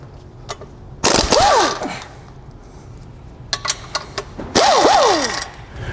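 A ratchet wrench loosens the clutch pressure plate bolts on a car with a twin-disc clutch, giving two loud bursts of rapid clicking with brief metallic taps between them, close up and without talk.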